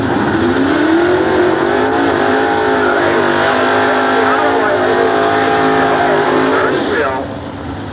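A 1961 Chevrolet drag race car with a 454-cubic-inch big-block engine roars loudly and steadily at a nostalgia drag strip, its pitch climbing before it cuts off near the end, with an announcer talking over it.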